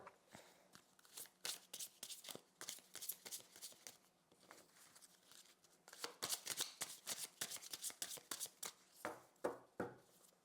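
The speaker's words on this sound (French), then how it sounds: "je bats les cartes" Tarot cards being shuffled by hand, bursts of crisp riffling and flicking in uneven clusters, quiet and close, growing busier and denser in the second half with no speech.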